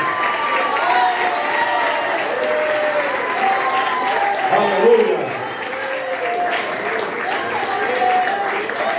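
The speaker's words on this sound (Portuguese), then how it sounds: "Dê uma salva de palmas e glorifica, Deus." Congregation applauding during a church worship service, steady dense clapping throughout with a shouted voice and sung or spoken exclamations rising over it near the middle.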